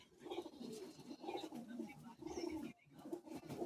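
Madras pigeons in a loft coo steadily in repeated low, throaty phrases, close and moderately loud, with faint background noise.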